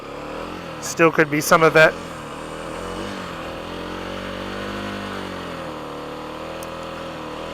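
A Kawasaki KLX300 motorcycle engine idles with a steady, even low drone throughout, and a short burst of speech comes early over it.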